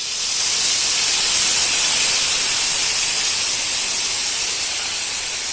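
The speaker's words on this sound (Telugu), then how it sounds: "పోపు కొంచెం వేగిన తర్వాత మనం ముందుగా నానబెట్టుకుని గుజ్జు తీసుకున్న చింతపండు రసం ఇందులో వేసుకోవాలి" Tamarind juice hitting a hot tempering in a pan gives a loud, steady hissing sizzle that fills the whole stretch, close and without a break.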